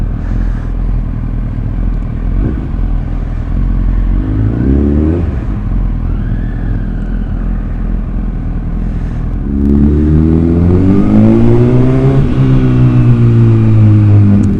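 Honda CBR1000RR sports motorcycle engine revving loudly up close while riding, with rising and falling revs and a sharp climb and surge partway through, heard alone with steady road noise underneath.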